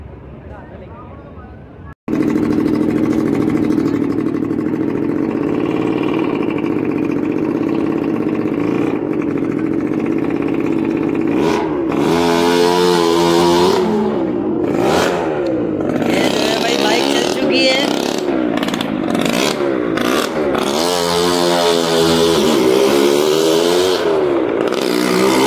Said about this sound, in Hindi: अब तैयारी है बाइक चलाने की मौत के कुएं में।